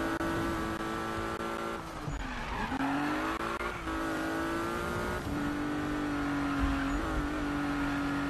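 A car in the video game Need for Speed 2015 drives and turns, its engine droning at a steady pitch that dips and rises with gear changes and cornering, loud and continuous, with brief tire squeal.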